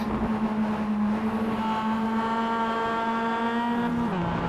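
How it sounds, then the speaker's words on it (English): Simulated race car engines in the iRacing game at Mid-Ohio for an SMX series round: a loud, sustained, high-revving drone with layered engine tones climbing under throttle, then dropping in pitch near the end as a gear shifts. "Just listen to where they're picking the throttle up, and man, they are aggressive."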